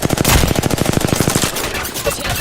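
Loud rapid automatic gunfire in a battle royale video game, a fast even burst of shots for about a second and a half, then quieter game noise.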